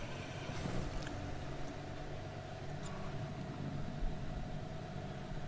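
Steady droning race car engines at Monza in the racing sim Assetto Corsa Competizione, a continuous low hum with no pauses, moderately quiet and even throughout.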